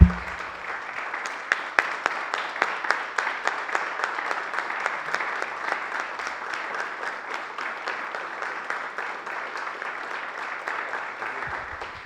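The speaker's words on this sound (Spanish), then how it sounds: "¿Podríamos comenzar dándole un aplauso a nuestro Señor Jesucristo?" A church congregation claps together in sustained, even applause that goes on for about twelve seconds, a dense patter of many hands with a few sharper claps standing out and no talking over it.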